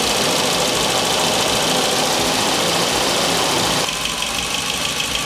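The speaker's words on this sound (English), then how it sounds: "I think the idle air engine is trying to find out where idle is." A rebuilt 300 hp Volvo redblock engine, probably turbocharged, idles loud and close with a steady rough rumble on its first start. The tone shifts slightly partway through as the idle searches for its level.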